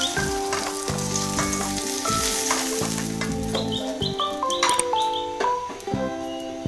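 Pointed gourd frying in hot oil, a steady close sizzle with stirring and clatter running for several seconds over a faint tonal background, without voices.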